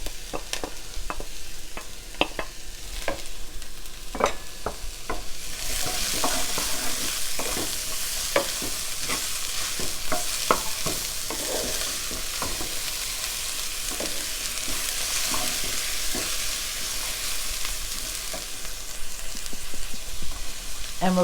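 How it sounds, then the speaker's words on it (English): Green peppers stir-frying in a pan for soybean chilli, a loud, continuous sizzle with repeated scraping and clinking of a spatula as the vegetables are tossed, growing brighter partway through. "Okay, we're going to add in the green peppers."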